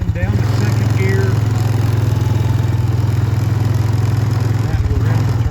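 A 2007 Honda Recon ES ATV, in need of a carb cleaning, drones with a loud, close, even engine pulse that briefly dips and shifts near the end as it drops to second gear, while a rider talks over it.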